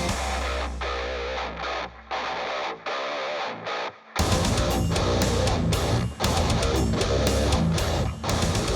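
Heavily distorted electric guitar, a Legator Ninja N8FOD eight-string, plays choppy chords and muted stabs, then breaks into a louder, sustained driving riff after a brief pause.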